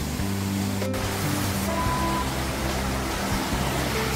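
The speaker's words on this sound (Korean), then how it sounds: "용추폭포입니다. 주황산에 있습니다." The Yongchu waterfall in Juwangsan's canyon produces a constant, full roar of falling water, heard close and loud throughout, with faint tonal murmurs beneath the rush.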